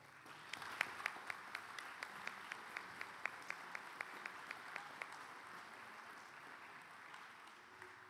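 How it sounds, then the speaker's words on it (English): Audience applause for junior high band soloists at a school band assessment, a modest scatter of claps with a few crisp individual hand claps standing out, fading after about five seconds. "Let's give you a round of applause."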